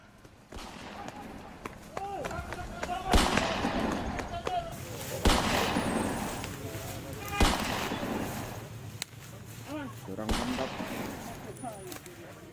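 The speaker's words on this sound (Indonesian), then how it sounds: "Petugas beberapa kali melepaskan tembakan peringatan" Several sharp warning gunshots ring out one at a time across the scene during a police chase, mixed with shouting voices, footsteps and outdoor commotion.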